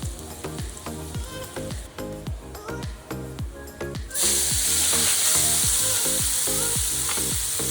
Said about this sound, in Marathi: लसूण चांगला गोल्डन ब्राउन झाला की आपण त्यामध्ये टाकणार आहोत कांदा आणि टोमॅटो बारीक चिरलेला